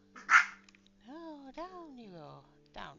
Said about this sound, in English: Sorry for the dog barking in the background if you can hear it.